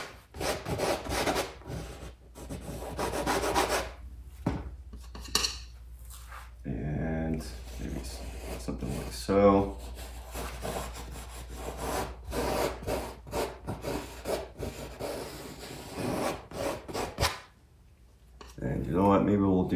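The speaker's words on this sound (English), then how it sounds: "Scrape off the excess." Excess paint is scraped off a wet-on-wet mountain landscape painting in repeated close, rasping strokes, interleaved with a person talking throughout.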